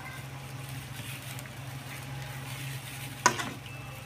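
Hot oil sizzles softly and steadily in a pan with whole bird's eye chilies for spicy seafood tom yam, a low even hiss broken by one sharp pop near the end.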